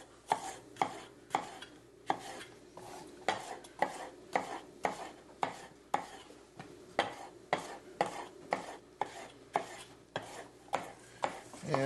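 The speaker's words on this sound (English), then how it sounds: "I'll just cut these into thin strips." A knife cutting vegetables into thin strips on a cutting board, a steady series of close, crisp chops, about two per second, repeating evenly with no voices.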